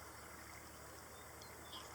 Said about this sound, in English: you can hear a diesel pump going in the background